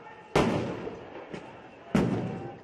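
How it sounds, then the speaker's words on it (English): Stun grenades go off during a protest at the U.S. embassy compound in Baghdad: two loud, sharp bangs about a second and a half apart, with a fainter thud between them, over a rumbling crowd background. "Embassy security forces and guards hitting back with stun grenades and tear gas."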